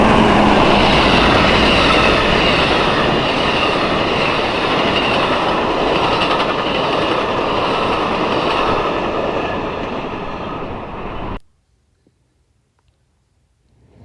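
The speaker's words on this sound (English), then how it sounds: "next was the Amtrak Floridian with the exact same consist, except this time the Charger is leading" The Amtrak Floridian passenger train passes close with a Charger locomotive leading, a loud sustained roar with clickety-clack wheel rhythm and faint wheel squeal, then the sound cuts off abruptly into silence.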